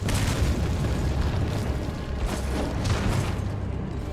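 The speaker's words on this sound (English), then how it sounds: "He's throwing grenades, time to run." Grenade explosions in the video game Resident Evil 4 form a dense, sustained roar of low booms and rumbling blasts, loud and continuous with a few stronger bursts.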